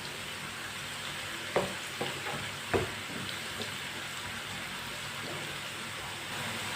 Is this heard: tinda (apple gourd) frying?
yes